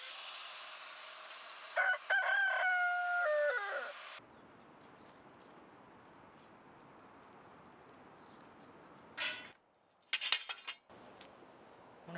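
A rooster crows once nearby on a farm where a greenhouse is being turned into a chicken coop, a drawn-out call followed by quiet, then brief clattering and rustling bursts near the end.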